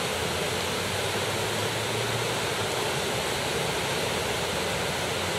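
Surf at Coney Beach rolls in with two to three foot sets, a loud, continuous roar of breaking waves with no voices.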